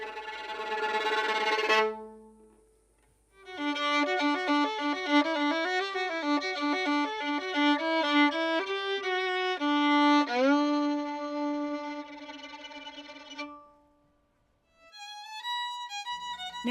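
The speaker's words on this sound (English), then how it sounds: "And then you do a zinger at the end, one bow that takes you all the way to the tip." Bowed string note ending, starting with a sustained tone, then a long quivering tremolo passage that swells and finishes in a sweeping zinger up to the bow tip; played alone, close, with short gaps between phrases.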